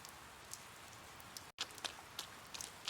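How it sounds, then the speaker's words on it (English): Rain falling at a gas station in the video game Persona 4 Golden, a steady soft hiss with scattered heavier drops, faint and even, with a brief dropout midway and no talking. "It began raining."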